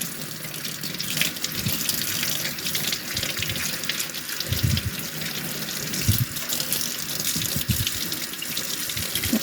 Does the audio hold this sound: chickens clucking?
no